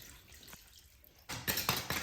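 Water splashes into a mix of sand and leftover waterproof plugging mortar for a drain repair, a short burst of close, bright pouring and spattering after a quiet moment of faint background noise.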